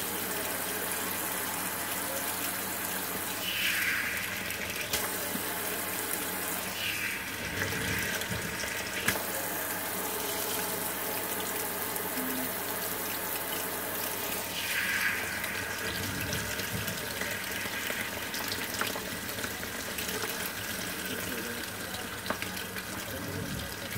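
Tap water runs steadily into a sink while hair is rinsed during a shampoo, a continuous close splashing hiss lasting throughout with small shifts in flow.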